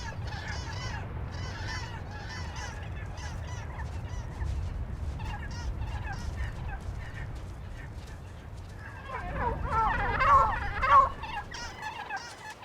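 A hen on a volcanic island gives a few throaty calls near the end, over a low rumbling background that persists throughout.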